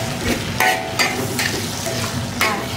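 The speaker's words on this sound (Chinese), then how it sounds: "给它炒至上色" Ingredients stir-fried with dark soy sauce in a wok for Sichuan spicy sauce, a steady frying sizzle broken by several scraping strokes of the spatula, close and fairly loud with no talking.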